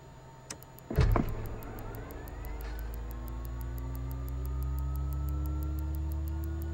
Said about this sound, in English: We're going to go ahead and start engine number 2.